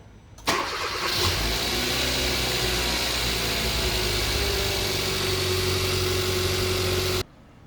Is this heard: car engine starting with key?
yes